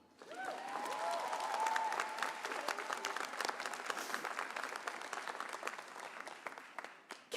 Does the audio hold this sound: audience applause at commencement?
yes